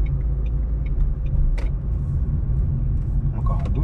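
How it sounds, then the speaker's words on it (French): A manual car pulling away during a driving lesson, the engine a steady low rumble as it accelerates gently on the clutch's biting point, heard close from inside the cabin. "J'accélère un peu, je garde bien le pied au point de patinage pour repartir."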